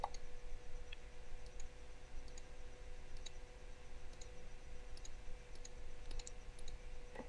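Faint, sparse mouse clicks from someone working in Photoshop, a few isolated ticks spread over several seconds above a steady low room hum, with no talking.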